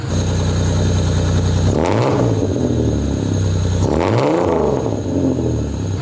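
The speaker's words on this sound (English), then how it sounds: "I'll give you a couple of revs right now so you can hear what the new muffler sounds like." A stock V6 Pontiac Fiero engine with a new muffler idles with a steady rumble, then revs up twice in quick succession, rising and falling each time, loud and close.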